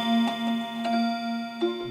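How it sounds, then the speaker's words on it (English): Mechanical clocks in a clock repairer's workshop ticking in a steady, even rhythm, several sharp ticks close by over a faint sustained hum. "By the chime and tick of clocks."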